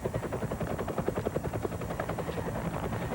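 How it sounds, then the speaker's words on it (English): A helicopter in a televised police chase gives off a steady, rapid rotor chop that pulses evenly throughout, heard at moderate volume as if through a TV speaker. "The helicopters are honing in on them now."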